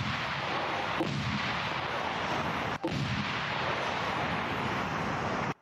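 Artillery fire at an enemy gun position on the Donetsk front: a dense, continuous roar of heavy shelling with two sharp blast transients, loud and sustained without speech.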